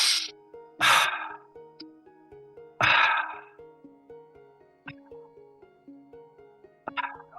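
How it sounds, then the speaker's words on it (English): Rhythmic double-time breathwork breathing, sharp forceful breaths in quick succession over a steady pulsing music backing, each breath loud and near with softer rhythmic notes continuing between them. "You could also go double time if you want."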